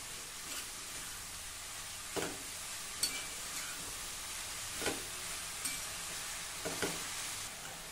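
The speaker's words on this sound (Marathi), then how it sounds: "मध्यम आचेवर आता हे आपण छान परतून घेऊ" Chopped spring onion greens sautéed in a pan over medium heat, a quiet continuous sizzle broken by occasional sharp scrapes of the spatula, close by and without voices.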